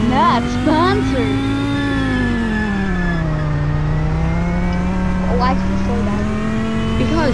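A BMW car engine in the Roblox racing game runs with a steady, loud drone that rises and dips in pitch as it revs. People talk over it throughout.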